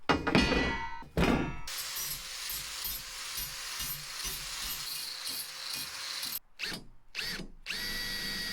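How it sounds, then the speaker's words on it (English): A power drill bores holes in steel unistrut channel, whirring steadily at close range with harsher bursts and clunks at the start and several stop-start pauses near the end. "then we're going to find the holes on this side to drill"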